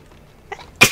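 A single sharp human sneeze bursts out close and loud near the end, preceded by a softer intake of breath, heard during an XCOM 2 gaming session.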